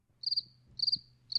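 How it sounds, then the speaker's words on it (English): Crickets chirp in three evenly spaced bursts of rapid, high trilling pulses, clear and alone against a quiet background hum. "I'm just going to pause here to allow that crickets noise"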